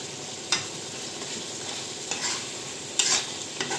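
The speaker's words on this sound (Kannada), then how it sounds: "ನಾನು ಕೊನೆಗೆ ಕೊತ್ತಂಬರಿ ಸೊಪ್ಪನ್ನ ಹಾಕ್ಕೊಳ್ತಾ ಇದ್ದೀನಿ." Garlic chicken fry is stirred in a pan after coriander leaves go in: a soft, steady sizzle with a few scraping stirs of the spatula at irregular intervals, close by and with no talking.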